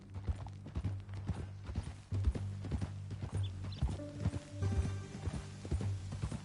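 A horse's hooves clip-clop on hard ground in steady, close, distinct strikes, with low mechanical rattles and faint tonal sounds behind them.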